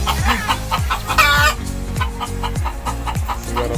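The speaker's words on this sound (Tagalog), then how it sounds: "Buenas daw yung nag-iitlog yung mga manok dito." Chickens at a small sari-sari store cluck repeatedly in a steady, close rhythm, with a louder squawk near the middle and no talking.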